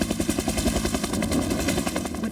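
Vietnam-era military helicopter of the Philippine armed forces in flight, a steady, loud rotor chop with a rapid rhythmic thump throughout, close by.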